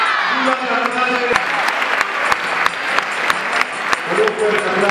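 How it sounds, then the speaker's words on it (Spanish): Crowd applause welcoming a statue of the Virgin during a Marian religious celebration, a steady burst of clapping that runs throughout, with a voice speaking over it. "con un fuerte aplauso recibamos a la Virgen"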